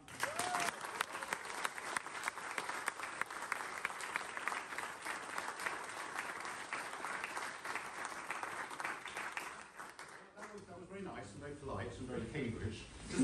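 A graduation audience at Cambridge University gives a long burst of clapping and cheering, dense and sustained for about ten seconds before fading into murmuring talk.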